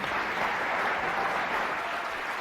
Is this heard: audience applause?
yes